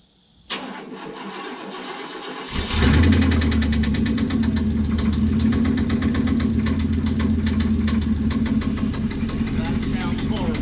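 A Chevrolet Blazer cranks over and catches after a couple of seconds, then settles into a loud, rough, uneven idle with a knocking, lumpy beat, close by with people talking over it.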